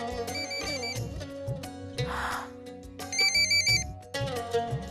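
A mobile phone ringtone plays continuously, a bright melodic electronic tune with repeating beeping tones over a steady rhythmic backing, clear and alone without any talk.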